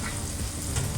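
Onion, masala and grated coconut fry in a pan with a steady, close sizzle and faint stirring scrapes, alone without any voices.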